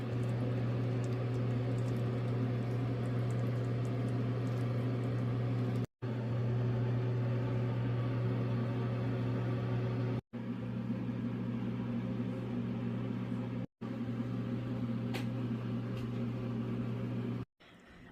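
A steady low electrical hum from an oven baking a Cajun-seasoned ground beef and sweet potato casserole, continuous and close, broken by a few brief silent cuts.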